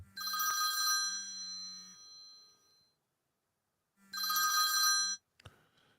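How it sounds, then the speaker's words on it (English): Telephone ringing while a call is placed: two close, loud ring bursts separated by a pause, with a low tone in between and no talking. "I have to make a phone call here real quick before we do this."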